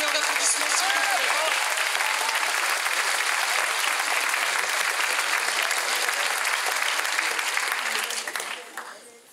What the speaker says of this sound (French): Gabriel et Edouard, encore un tonnerre d'applaudissements, s'il vous plaît